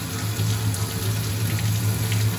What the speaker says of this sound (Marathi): त्यामुळे त्या चांगल्या धुवून घ्यायच्या